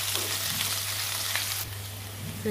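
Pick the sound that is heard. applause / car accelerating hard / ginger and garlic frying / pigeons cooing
ginger and garlic frying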